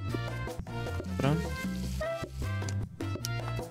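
Cartoonish frying sizzles from the restaurant video game PlateUp! crackle in short bursts beneath layered game music and effects, with tonal blips and chimes woven through the mix.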